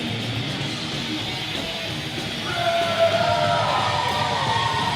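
A wrestling crowd at a no-DQ main event match cheers and yells for Titus, a steady roar of voices that swells louder midway, with whoops and shouts rising above the continuous noise.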